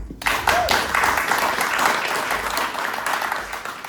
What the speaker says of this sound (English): Let's give it up for Shambhavi